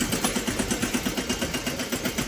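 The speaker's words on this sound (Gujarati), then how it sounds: "આ આપણું ટ્રેક્ટર નાનામાં નાનું" A small tractor engine idles steadily nearby, a low rhythmic chugging that pulses evenly without pause.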